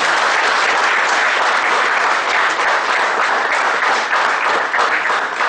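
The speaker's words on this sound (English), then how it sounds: "Let us welcome CA Chandrashekar Shetty sir with a big round of applause" A big round of applause from an audience at a rankers' meet welcoming a guest speaker, dense and steady clapping filling the whole stretch at close range.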